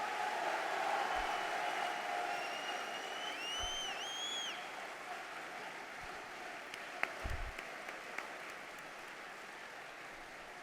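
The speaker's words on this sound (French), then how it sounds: "Et on peut vous applaudir pour votre résilience." Applause from an audience at a French political rally, a soft, distant patter of clapping that slowly fades, with a few sharp knocks near the end.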